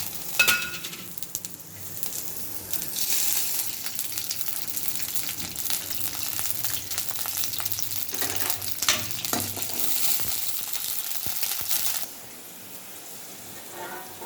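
Sundakkai (turkey berry) frying in oil, a steady crackling sizzle that runs for about twelve seconds with occasional stirring, then drops to a faint hiss.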